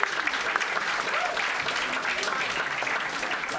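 Audience at a comedy charity auction at The Groucho Club breaks into sustained applause, a dense, steady patter of many hands clapping throughout, with faint crowd noise mixed in.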